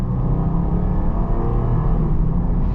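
A 2023 Jeep Grand Cherokee Summit V6 accelerating at about 4,500 feet elevation, with a steady, loud low engine drone and road rumble heard from inside the cabin, smooth and continuous with no speech.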